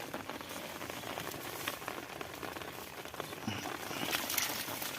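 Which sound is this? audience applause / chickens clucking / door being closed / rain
rain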